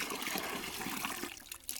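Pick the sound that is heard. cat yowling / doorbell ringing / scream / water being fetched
water being fetched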